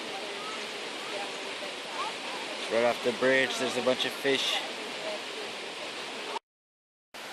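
Steady rushing waterfall noise on a hike in Thailand throughout, with a person speaking briefly over it in the middle.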